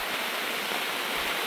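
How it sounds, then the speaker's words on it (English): Heavy thunderstorm rain drums on an inflatable tent at a solo campsite, a dense, steady, loud hiss heard from inside with no breaks and no voices. "this is already a harder rain than that little shower that first came through"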